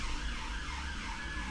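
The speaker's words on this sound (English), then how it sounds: "they have bloody sirens going up and down" A wailing emergency siren rises and falls continuously on a main road, moderately distant, heard from an office, over low traffic rumble.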